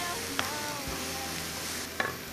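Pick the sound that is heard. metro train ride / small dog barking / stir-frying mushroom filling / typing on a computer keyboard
stir-frying mushroom filling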